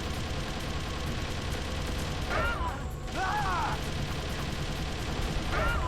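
Rapid, dense gunfire rattles through the Jeep fight against Liquid in Metal Gear Solid: The Twin Snakes, a continuous mechanical clatter with brief high whining streaks cutting in, loud and sustained throughout.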